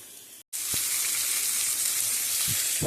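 Raw mango, tomatoes, garlic and chilies roasting on a ghee-greased griddle give a steady, loud sizzle. The sizzle breaks into silence for a moment, then resumes continuously with faint pops, and no voices are heard.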